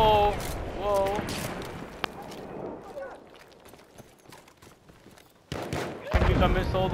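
Gunfire in the video game Battlefield 1: a loud burst of rapid shots up front, a single sharp crack midway, then another loud flurry near the end, with quieter ambient battle noise and occasional voices between.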